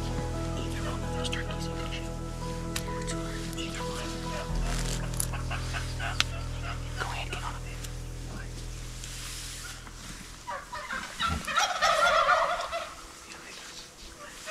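Wild turkeys gobble during a youth turkey hunt in the Pacific Northwest woods, with a loud, close gobbling burst near the end over a steady low outdoor hum.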